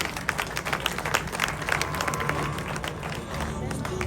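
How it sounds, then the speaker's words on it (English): An audience at a journalists' awards ceremony in Ghana applauds with dense, brisk clapping. Crowd voices murmur beneath the clapping. "Shall we do a big round of applause?"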